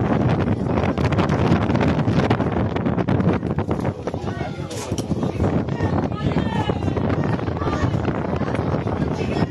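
Strong wind buffets the microphone throughout at an amateur football match, a loud continuous rumble and roar that masks most other sound, with occasional voices faintly underneath.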